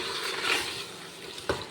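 Cooked mutton is stirred in a pot, soft scraping and bubbling sizzle close by, with a single sharper knock of the spoon near the end.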